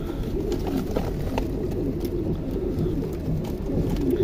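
Pigeons coo softly and continuously in a busy flock, low murmuring calls overlapping with faint rustling and flutters.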